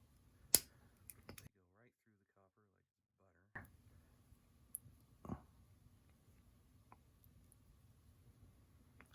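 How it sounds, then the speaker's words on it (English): Wire cutters snip out the old windings of an Athearn model train motor, giving a few sharp, isolated clicks and snaps close by in an otherwise quiet room. "I'm just going to cut out the windings. Real simple. Just use these wire cutters to kind of go in there."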